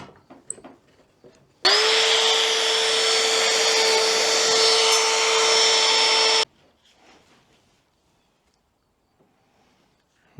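A wood router cuts into an old log, a loud, steady whine that runs about five seconds before stopping abruptly, with quieter handling noises before and after.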